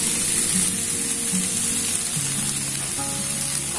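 Vegetables fry in a hot pan with a loud, steady sizzle and hiss, close up, as sauce is poured in, shifting the tone partway through; no one speaks.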